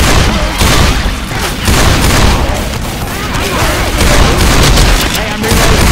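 Loud, dense gunfire from the video game Left 4 Dead 2, with continuous overlapping shots and booms filling the whole stretch.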